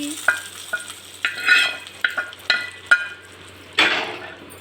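Dried red chilli and curry leaves fry in hot oil in a pan for a chutney tempering, sizzling and crackling in short sharp bursts with stirring, close and fairly loud.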